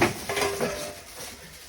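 GraniteStone cookware pots and pans being handled during unboxing, giving a few close metallic clanks and light knocks over a short moment.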